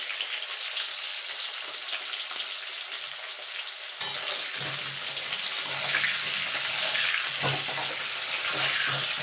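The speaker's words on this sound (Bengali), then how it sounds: "এবার আলুগুলোকে লাল লাল করে ভেজে নেব।" Potatoes fry in hot oil, a steady close sizzle with bursts of crackling and occasional clatter of stirring, growing fuller partway through.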